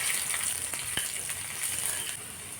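A brief, quiet tempering of mustard seeds, urad dal, dried and green chillies and curry leaves crackling in hot oil, with a few small pops over a steady sizzle.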